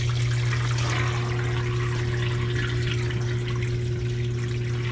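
Avanti STW20D2P portable washing machine pumping out water, a constant hum with a steady gushing, splashing rush that stays even throughout at moderate volume.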